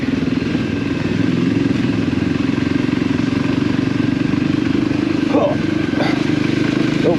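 A Voge 300 Rally motorcycle riding along a smooth road, its engine giving a steady, droning hum with constant wind rush throughout and a faint voice briefly rising above it near the end.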